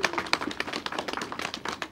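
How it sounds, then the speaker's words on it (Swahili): Scattered hand claps from a crowd at a school teacher-housing inauguration ceremony, quick uneven bursts of clapping that continue for two seconds without any clear vocal trills. "Makofi na vigelegele kwa wingi."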